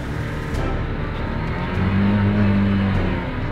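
A boat engine on the Kanawha river drones loud and steady at full throttle, its low hum swelling slightly midway with no talk.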